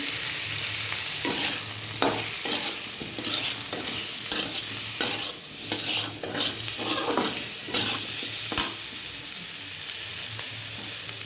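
Cauliflower pieces fry in hot oil with salt and turmeric, hissing steadily while a utensil stirs and scrapes the pan at regular intervals, with no talking.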